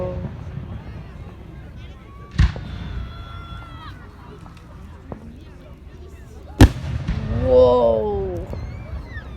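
Canada Day fireworks explode in two sharp, loud bangs several seconds apart, with crackling and whistling trails after them. Excited voices call out throughout.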